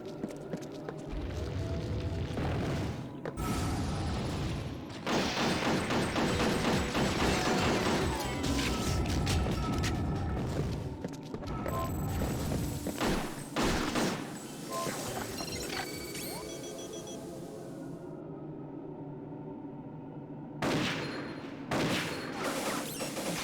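Gunfire and crashing impacts from the first-person shooter game Coded Arms: repeated rapid bursts and single shots, loud and close, broken by short quiet gaps, with clanking mechanical sounds in between.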